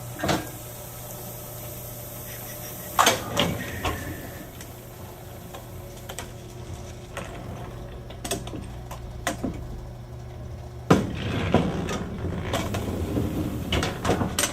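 Letterpress printing press running an inked plate through its rollers, a steady low mechanical hum under irregular clacks and knocks, with a louder clunk near the end as the press cycles.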